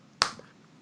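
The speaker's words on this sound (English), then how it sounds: "I'm just like a single clap" A single sharp clap, crisp and close, followed by a brief fading tail and quiet room tone.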